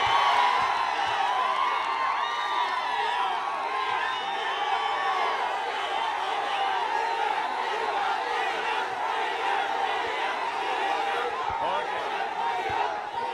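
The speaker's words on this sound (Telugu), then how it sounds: "గట్టిగా చప్పట్లు కొట్టి ఈ కమిటీని అభినందించండి" A large crowd at a political rally for a speech about Sr NTR roars and cheers continuously, dense shouting and whooping sustained throughout, with applause blended into the loud, steady wall of noise.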